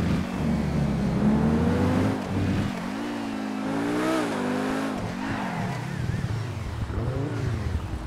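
A Lamborghini Sian driven in GTA 5 roars loud and close, its engine revving up and down in continuous rising and falling sweeps with no break.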